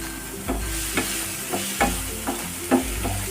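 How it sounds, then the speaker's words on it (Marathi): Vegetables for masala Maggi stir-fry in a pan under a steady sizzle. A spoon scrapes and knocks against the pan about every half second, close by and with no talking. "भाज्या जास्त फ्राय करून घ्यायच्या नाहीत थोड्याशा कच्च्याच फ्राय करायच्या"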